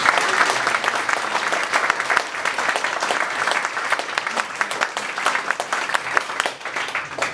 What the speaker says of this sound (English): we should give him a round of applause for